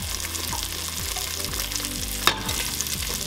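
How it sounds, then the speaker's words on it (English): Food bits are scraped in a frying pan of Somali cooking over a steady loud sizzle, with a rhythmic series of utensil scrapes and one sharper clack near the end and no voices. "scrape it like whatever that you can scrape"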